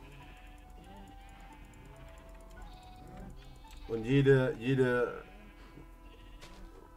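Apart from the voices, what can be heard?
sheep bleating in the video game Minecraft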